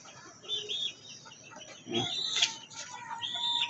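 Chickens cluck and call on a rooftop, several short bursts of clucking and chirps spread across the moment, near and moderately loud, with faint background noise and no speech.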